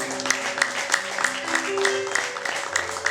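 A church congregation claps in rhythm and ululates in praise, a dense crowd sound with a high trilling voice running over steady beats of applause.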